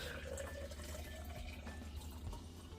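Drink poured from a container into a drinking glass, a steady liquid splash and fill running continuously at close range with no talk.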